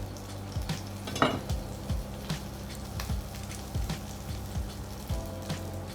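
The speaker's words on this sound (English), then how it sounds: "let it fry up until you can see that is start changing color" Chili and garlic sizzle in hot olive oil in a pan, a steady close frying hiss broken by frequent scraping stirs and light clinks of a utensil against the pan.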